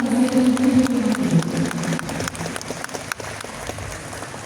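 Audience applause at a university rector handover ceremony, thanking a professor after his speech; dense steady clapping that fades toward the end over a hall's murmur.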